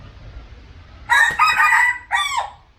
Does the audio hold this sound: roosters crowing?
yes